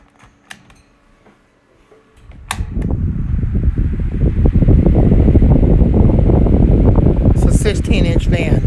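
A 16-inch high-velocity electric home fan starts up after a few soft clicks, then settles into a loud, steady rushing whoosh on its high setting, close to the listener.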